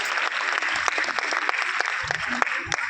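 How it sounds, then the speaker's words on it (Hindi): Audience applause at a business plan presentation, a continuous patter of many hands heard at moderate loudness with a voice talking over it. "ताली बजा सकते हैं आप पहले"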